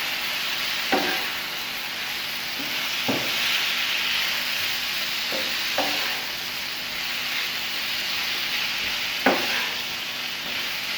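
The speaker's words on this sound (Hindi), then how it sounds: "इन सारी चीज़ों को अच्छी तरह से मिक्स करेंगे।" Vegetables with sweet corn and mixed colored bell peppers stirred in a hot pan, a steady sizzling hiss with occasional scraping clinks of the spatula, no talking.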